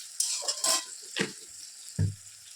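Chicken frying in a pan on a home stove in a Bengali kitchen, stirred with a utensil; a hissing sizzle runs throughout, broken by a few distinct scraping stirs and one low clunk of the pan near the end.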